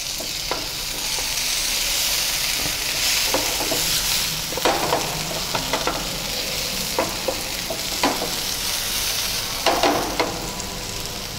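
Onion, ginger, garlic and tomato sauté in a hot pan for keema samosa filling, a steady sizzle broken by repeated scrapes and clinks of a spoon stirring against the pan.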